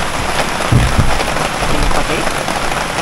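Steady rain falls in a continuous, dense hiss, close and fairly loud, with a couple of brief low thumps near the start.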